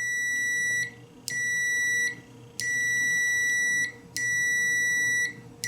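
A UNI-T UT39E+ multimeter in continuity mode gives four sharp, high electronic beeps, each lasting about a second, with short gaps between them, close and clear.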